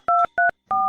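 Three bursts of telephone touch-tone dialing beeps, each a steady dual tone, sounding loud and close with short gaps between them and no talking.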